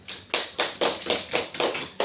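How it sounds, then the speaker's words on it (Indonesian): A class claps in short, regular bursts, about eight evenly spaced rhythmic claps at moderate, fairly soft level, with no voices over them. "Tepuk tangan."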